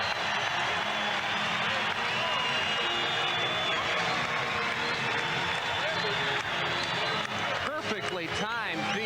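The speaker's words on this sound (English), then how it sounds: "Hemisphere Arena stands to applaud David Robinson" Arena crowd at a 1991 NBA game between the Seattle SuperSonics and San Antonio Spurs stands and applauds David Robinson during a timeout, a dense, steady roar of clapping and cheering throughout, with some whistles near the end.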